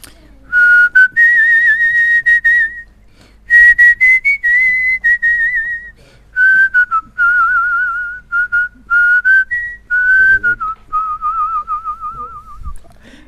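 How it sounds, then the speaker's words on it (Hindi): A man, a retro Bollywood playback singer, whistles a melodic tune in clear, sustained phrases separated by short pauses, loud and close with no other sound. "ऐसे सीटियाँ भी बजा लेता हूँ म्यूज़िक में, बैकग्राउंड म्यूज़िक में"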